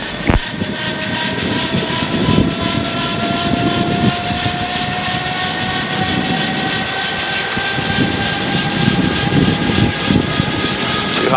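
A gyrocopter engine holds at 2000 RPM in flight, giving a loud, steady, close droning roar from start to finish. Faint radio voices may sit beneath it.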